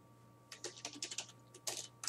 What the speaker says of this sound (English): I'm going to type in a for color